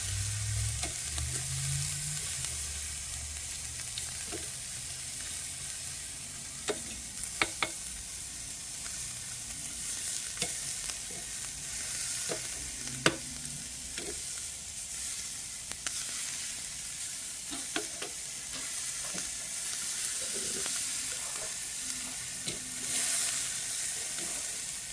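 Ilocano-style pork barbecue sizzling on a grill, a continuous steady hiss and crackle with scattered sharp pops and ticks throughout, no voices.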